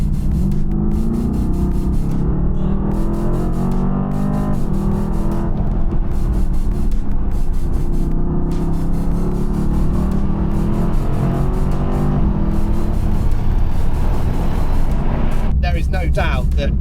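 A Mercedes-AMG GT-R's exhaust in loud mode roars loudly and continuously, a deep throbbing engine note that stays strong throughout with a brief crackle near the end.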